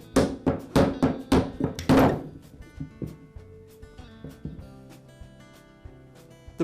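Rubber mallet knocking a motor armature out of its bearing: a quick run of loud, evenly spaced thuds, then softer scattered taps and knocks trailing off.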